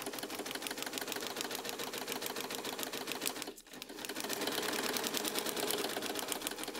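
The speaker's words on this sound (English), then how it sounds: "lock stitch at the corner" A sewing machine stitches a quilt block, its needle hammering in a rapid, steady close-up rhythm. A brief pause midway breaks it before the stitching resumes slightly louder.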